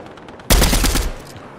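Burst of rapid gunfire in a Spider-Man video game, a loud close volley lasting under a second that cuts sharply out of a quiet background and fades quickly.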